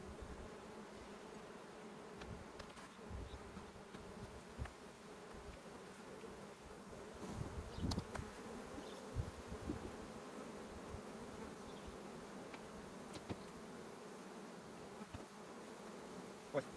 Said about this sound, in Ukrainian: Ось наш рій. Рій такий невеличкий.